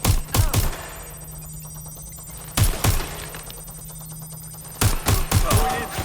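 Gunfire in the video game Watch Dogs Legion comes in three loud bursts of several rapid shots each, separated by pauses filled with a steady low hum and muffled background noise.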